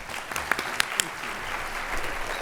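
Audience applause at a morning plenary of a sustainability summit, after a Metropolitan Council community development speaker is introduced: a broad, steady wash of clapping with a few sharper claps standing out, fairly distant and moderately loud.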